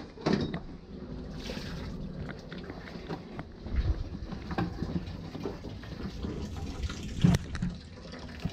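Water drains from a plugged steam heating return line during a no-heat service call, making a continuous nearby trickle and splash with occasional louder knocks and clunks.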